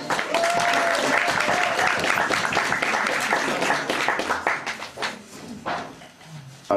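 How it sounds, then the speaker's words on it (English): Audience applause for the Heavenly Choir at a live radio show, dense clapping with some cheering that thins into scattered claps toward the end. "How about a round of applause?"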